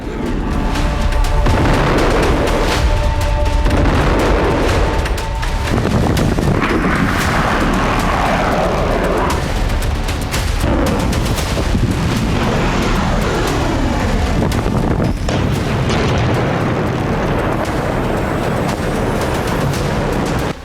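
Bombs exploding in airstrikes on densely populated areas of Tehran, Iran, a continuous loud barrage of deep booms and blasts with rumbling artillery-like impacts filling the whole stretch, no voices.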